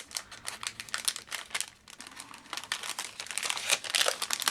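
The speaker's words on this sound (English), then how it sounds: "Sorry for the crinkling." Paper and plastic packaging crinkle steadily near the microphone during scrapbook card crafting, a dense run of crisp rustling bursts with a short lull partway through, and no one speaks.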